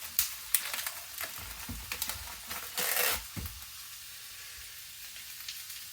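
Sausage and meatballs sizzle in a skillet, a steady crackling hiss with occasional louder spatters and stirring scrapes, fairly close and with no talking.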